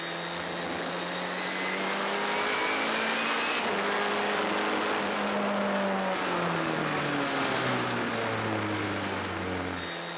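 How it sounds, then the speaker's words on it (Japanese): A race car at Tsukuba circuit drives out of the final corner at full throttle. The engine roars loud and close with a dense, steady wail, and its rising and falling harmonics track the acceleration and gear changes. "最終コーナーから立ち上がり全開にした瞬間"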